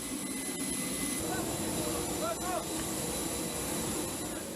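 Cargo plane engine running as paratroopers load through the rear cargo door, a steady loud jet roar with high whine, with some faint voices and squeaks mixed in.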